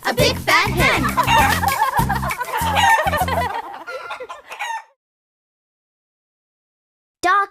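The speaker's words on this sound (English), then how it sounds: "a big fat hen" A big fat hen clucks loudly and repeatedly in a children's nursery rhyme song. Children's voices and music play alongside it before it cuts to silence, then a brief loud burst returns at the end.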